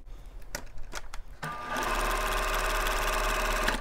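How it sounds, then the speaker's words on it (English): A sewing machine stitches two quilt fabric blocks right sides together along a quarter-inch seam, starting after a few light taps and then running as a steady, close, loud whir. "So I'm going to sew them right sides together, matching up with a quarter inch seam,"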